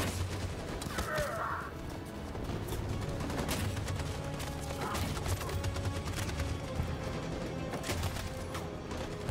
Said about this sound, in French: Cette saloperie de mitraillette tire sur tout ce qui bouge